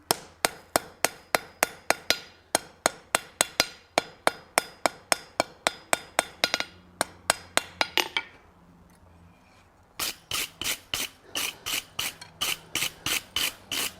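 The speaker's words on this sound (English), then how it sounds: "let's get this hot and then we're going to forge weld that down and that'll become the head of our" Hammer strikes on hot steel as it is forge welded to shape a ram's head: rapid, sharp, evenly spaced metallic blows, a short pause with quiet fire hiss, then another fast run of ringing hits.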